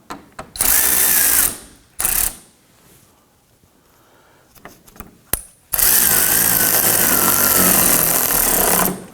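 A power drill snugs down screws on a 2018–2024 Toyota Camry fender liner, loud close whirring bursts of a second or more, a quiet gap with faint handling clicks, then a longer sustained run.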